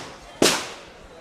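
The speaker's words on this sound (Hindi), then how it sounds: "तो आप जैसे कि देख सकते होंगे पीछे पटाखे भी छूट रहे हैं" A single firecracker goes off with a sharp, loud crack and a short decaying tail during a street celebration held by party workers in Patna.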